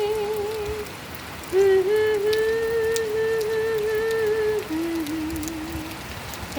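Steady rain falls in a continuous hiss, while a voice hums a wavering tune over it throughout.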